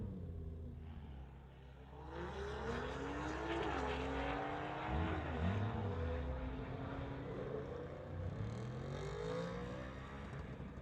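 Street-legal drag race cars launch and roar down the strip at a MOPAC event, engines revving loudly and rising in pitch as they pass, heard at a distance with no talk.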